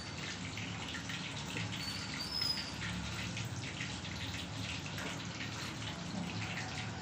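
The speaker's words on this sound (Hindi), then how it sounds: "इसको हम फ्राई होने के लिए डाल देते हैं कढ़ाई में" Breaded chicken sizzles and crackles in hot oil in a kadhai, a steady, moderately quiet hiss with fine popping that continues evenly throughout without voices.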